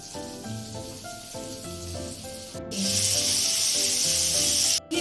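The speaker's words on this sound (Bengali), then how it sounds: "ক্যাপসিকামটাকে হলদি দিয়ে মাখিয়ে রেখেছি সেটাকে বেজে নেব" Turmeric-coated capsicum dropped into hot oil with ghee, a sudden loud, steady sizzle that takes over after a few seconds of background music and keeps going close up.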